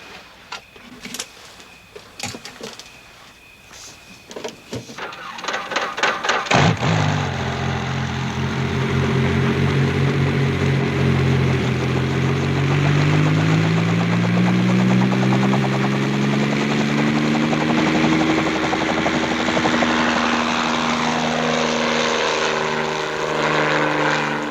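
A light aircraft engine coughs and sputters through a few uneven bursts, then catches and settles into a loud, steady propeller drone that holds for the rest of the clip and shifts in pitch as the plane moves.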